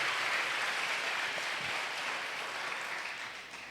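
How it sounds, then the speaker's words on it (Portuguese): Church congregation applauding during a Portuguese-language service, a steady dense wash of clapping that stays loud throughout and eases slightly toward the end, with no voices standing out. "Aplauda o Senhor, queridos."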